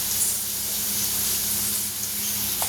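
Okra, or ladies' finger, sizzling as it fries in a pan, a continuous close hiss of frying that holds steady and fairly loud throughout, with no talk.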